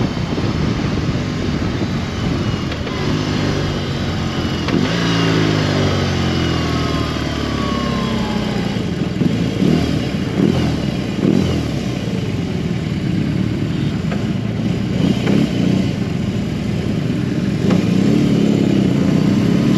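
A 2022 BMW R18B motorcycle's big two-cylinder boxer engine rumbles and revs repeatedly, close and loud, with the pitch rising and falling as the throttle is blipped; no talking.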